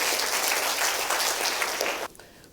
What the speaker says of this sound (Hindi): तालियां बजा के प्रभु का धन्यवाद।